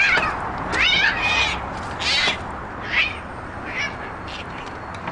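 Territorial street cats meow and yowl in several separate calls, some wavering and drawn out, rising over a steady background hiss at moderate distance.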